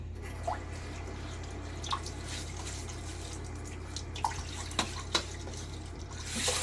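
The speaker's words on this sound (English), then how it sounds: "So let's splash my face a little bit." Water at a bathroom sink during a shave, with a steady faint background hum, a few soft drips and light splashes spaced out, then a brief rising splash at the end.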